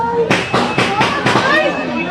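Rapid series of sharp gunshots, about six loud cracks roughly a quarter second apart, ringing out during a live Brazilian TV news broadcast while a frightened voice cries out over them.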